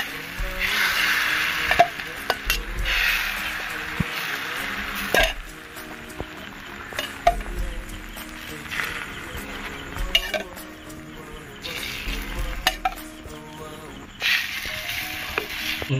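Beaten egg goes into a buttered pan for a bread omelette and sizzles steadily, with occasional stirring and scraping clinks and a few intermittent louder pops over a low background.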